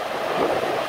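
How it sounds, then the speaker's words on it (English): Strong wind gusting at an ocean shore in Hawaii, a steady broadband roar buffeting the microphone throughout with no voices. "Way too much wind."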